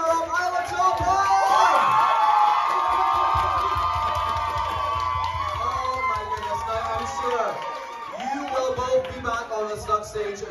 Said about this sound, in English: Can we get a massive cheer for your runner-up, Isla Topham?